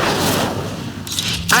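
Incendio fire spell cast in Hogwarts Legacy, a loud burst of game combat effects with booming, blasting energy over a busy battle soundscape, ending in a bright crackling flare.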